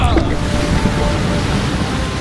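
Water rushes loudly as a high-running river parts in an animated scene, a dense, continuous roar like surging surf that fills the whole stretch without a break.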